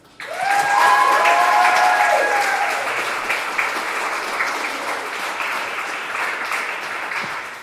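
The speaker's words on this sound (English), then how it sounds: "I ask you to give a round of applause to them." A room full of people breaks into a loud, sustained round of applause at a senior appreciation banquet, swelling quickly and holding steady with dense overlapping claps and a few faint cheers throughout.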